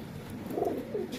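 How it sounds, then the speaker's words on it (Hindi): Rampuri pigeons coo softly in a short, low burble, with faint background noise and no talking. "ये टोटल है गए 70 कबूतर।"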